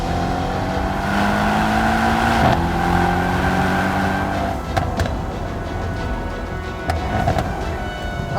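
A Mercedes-AMG E63 S pulls hard out of a track corner, its engine note climbing steadily through the revs, loud and close, with a sharp shift crack midway and continuous roar throughout.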